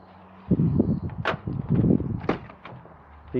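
A Renault Clio door is shut once, giving a single thud and rattle, followed by a few lighter knocks and clicks close by.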